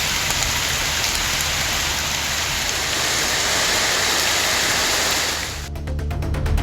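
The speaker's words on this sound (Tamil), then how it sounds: "சுமார் 1 மணி நேரத்திற்கும் மேலாக பெய்த மழையால் சாலையில் மழைநீர் பெருக்கெடுத்து ஓடியது." Heavy rain pours steadily in the Thanjavur area, a loud, dense, continuous hiss of drops on surfaces that holds throughout with no voices.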